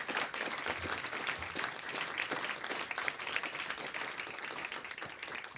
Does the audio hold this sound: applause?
yes